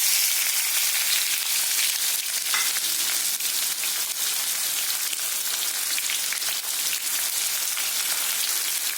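Chopped onion fries in a pan, producing a loud, steady, close hiss of crackling oil that runs without pause, with faint stirring scrapes.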